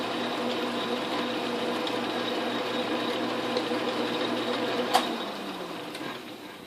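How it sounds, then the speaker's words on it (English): Atlas/Craftsman metal lathe turning at its slowest speed, a steady low mechanical whir and hum with faint rhythmic clatter, one sharp click near the end, fairly quiet and with no talk. "So this should be the slowest speed the lathe can run."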